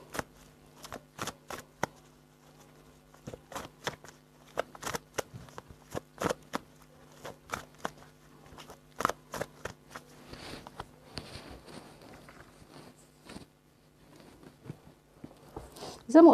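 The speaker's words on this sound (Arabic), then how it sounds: "طيب هنسحب كروت تاني كده نشوف الدنيا" Tarot cards being shuffled and handled up close, giving a quiet series of sharp snapping taps and soft riffles over a faint steady hum.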